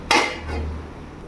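A lid is set onto a cooking pot of pumpkin greens with prawns. There is one sharp metallic clank, a softer second contact and a short ringing decay, close up with no talking.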